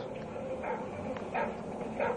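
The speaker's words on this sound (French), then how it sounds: "Le balayage thermique indique des chiens d'attaque." Attack dogs in the video game Modern Warfare 3 bark and yip in a few short, fairly faint bursts spaced through the clip over a low game backdrop.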